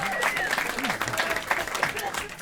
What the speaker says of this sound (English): Very interesting moment for an applause break.